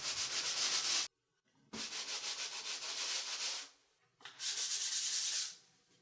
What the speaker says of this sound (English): now I'm going to be using these sandpapers to wipe off those spots where I filled in the holes